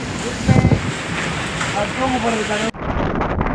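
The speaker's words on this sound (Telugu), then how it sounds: "గాలి ప్రభావం ఎక్కువ అవడం వల్ల ఆ బోర్డు దగ్గర సముద్ర వాతావరణం అతలకుతలంగా ఉంటుంది" Rough sea and strong wind during a cyclone on the Tamil Nadu coast near Chennai, with boats nearby: a dense, loud roar of wind buffeting the microphone over churning waves, and a voice talking through part of it.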